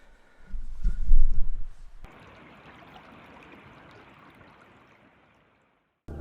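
The Hoh River on the Olympic Peninsula flows past a riverside campsite with a soft, steady rushing hiss. A brief louder low rumble opens it, and it cuts off abruptly near the end.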